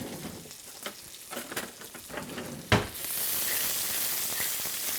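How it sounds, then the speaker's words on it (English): Sun-dried tomatoes fry in a pan of bacon fat, with scattered clinks and scrapes of stirring before a steady, close sizzle rises and holds. "we'll put those into the pan and stir those around for a few minutes"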